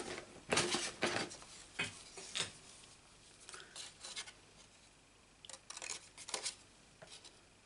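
Scissors snip out a paper piece for a card-making project, in irregular bursts of short crisp cuts and rustles, close but fairly quiet, with pauses between.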